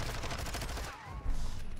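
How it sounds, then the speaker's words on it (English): Rapid automatic gunfire from a Call of Duty competitive match rattles steadily and close throughout, briefly dipping before a louder burst near the end, with little speech over it. "Oh, just mispositioned that gunfire there from Brody."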